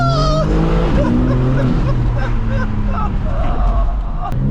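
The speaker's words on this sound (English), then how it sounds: "I don't know why it's starting to burble a lot lately." Tuned Stage 2 700 hp BMW M4 G82 running with a steady loud engine drone and intermittent exhaust burble and crackle throughout, heard from inside the car with some faint background voices.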